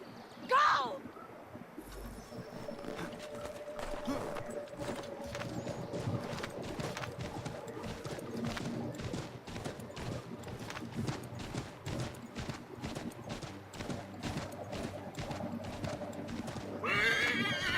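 Rapid, steady hoofbeats of a galloping horse in Assassin's Creed 3 pound throughout, with a horse whinnying near the start and again at the end, over a low rumble.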